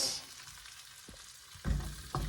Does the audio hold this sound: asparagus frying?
yes